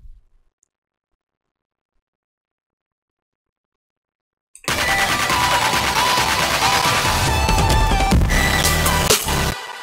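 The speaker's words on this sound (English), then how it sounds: "Altogether, the drop sounds like this." After about four and a half seconds of silence, a melodic bass music drop slams in loud and dense, with heavy bass and bright layered synths that stay full to the end.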